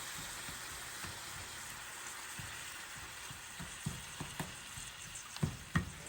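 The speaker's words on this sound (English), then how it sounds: "And then we'll saute these up like this." Carrots, onions, celery and garlic sauté in a pan with white wine, giving a low steady sizzle with scattered clicks and scrapes of stirring that grow a little sharper toward the end.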